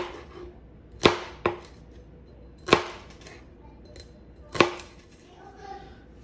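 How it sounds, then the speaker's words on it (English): Celery being chopped with a knife on a cutting board: four sharp, distinct thwacks spaced irregularly about a second apart, close and crisp, with quiet room noise between strikes. "first I'm going to cut up the celery"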